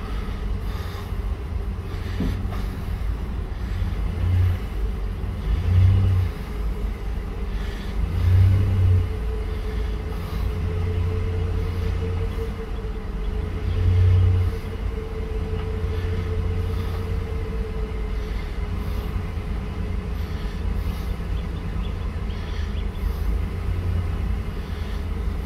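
A repaired Tuff Truck engine idles and runs steadily while the truck creeps along at about 5 mph, a continuous low rumble with a few brief swells in level and no voices.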